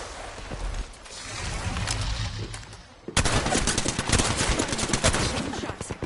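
Video game gunfire rattles in rapid automatic bursts, a muffled stretch giving way to a sudden, louder run of close, crisp shots that continues to the end.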